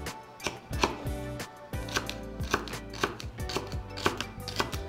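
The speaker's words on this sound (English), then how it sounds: "So we'll start with chopping our vegetables, which includes onions, carrots," A knife chops onions, carrots and celery on a board, with irregular bursts of close, sharp taps, some quick runs and short pauses, over faint background music.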